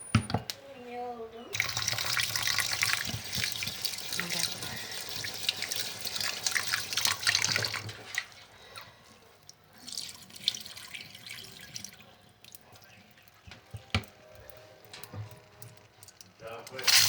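Tap water runs into a pot as millet is rinsed for porridge, a steady splashing pour with drips and gurgles that stops and restarts, the flow loud at first and then more broken and intermittent.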